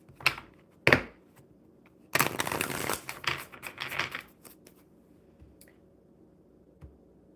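Tarot cards being shuffled by hand: two quick riffle snaps, then a longer burst of rapid card flutter and a few soft taps, close and fairly quiet.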